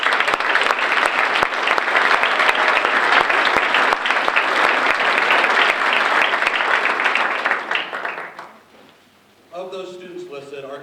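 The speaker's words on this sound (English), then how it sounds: "let's have a round of applause for the people who did" An audience at an academic recognition program gives sustained, dense applause for several seconds. It then fades to quiet, and a person begins talking.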